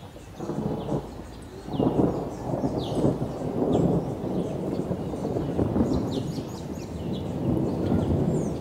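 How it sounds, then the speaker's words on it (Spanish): Thunder rumbles low and rolling through a light drizzle in Sucre, Bolivia, in long overlapping waves, with faint birds chirping in the background and no talking. "El clima se puso caprichoso con una llovizna y sonido de truenos"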